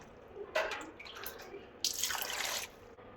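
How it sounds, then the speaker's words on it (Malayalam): Water poured from a cup into a vessel holding mussels in a home kitchen, two short bursts of splashing, the second longer, close and fairly faint. "ഇനി അതിലേക്ക് ഒരു 2 കപ്പ് വെള്ളം ഒഴിച്ച് കൊടുക്കാം."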